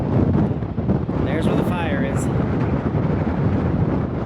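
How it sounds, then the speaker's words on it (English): Wind buffets the microphone at a hiking-trail overlook on a mountain, giving a loud, continuous rumbling roar while someone talks over it. "The fact that it's getting windy isn't helping"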